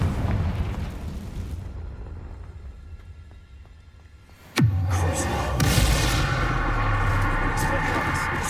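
Confringo blast spell going off in the video game Hogwarts Legacy: a sudden loud burst strikes midway through a quiet stretch, then a dense, rumbling roar carries on to the end.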